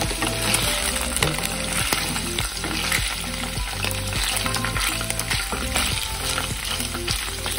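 Paneer sizzles and crackles steadily in a hot pan, with a rhythmic stirring or scraping pattern running under the continuous loud frying noise.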